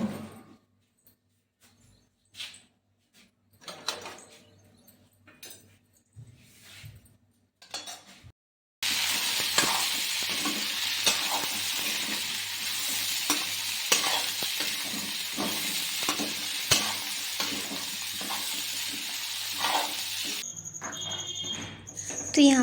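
Vegetables frying in mustard oil in a kadhai: a steady loud sizzle settles in after a quieter opening of clinks and stirring.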